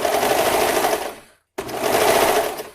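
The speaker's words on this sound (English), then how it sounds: "I'm going to turn my knife back on to get that serger tail again." A serger sewing machine with its trimming knife engaged runs in a fast, steady whir, stops briefly, then starts again at full speed, loud and close with no voices.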